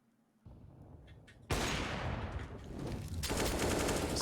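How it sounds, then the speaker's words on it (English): Gunfire in a Counter-Strike esports match: a quiet lead-in, then a sudden loud shot and a dense run of rapid overlapping shots and echoes that continue to the end. "Such a fast shot from Alien."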